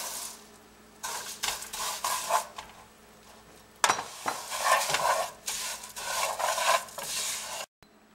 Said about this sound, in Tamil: எண்ணெய், அதில் சேமியாவை போட்டு வறுத்து எடுத்துக்கலாம்